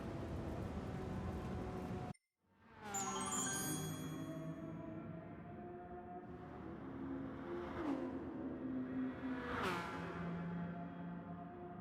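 A road car in Gran Turismo Sport revs its engine with a buzzy, chainsaw-like tone, rising through several gears in sweeping pulls after a brief silent gap, loud and close.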